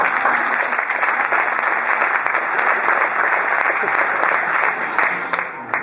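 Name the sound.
audience applause during gymnastics show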